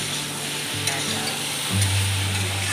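Paneer and potato curry sizzles steadily in a pan with a constant frying hiss, occasional stirring knocks, and a low hum underneath.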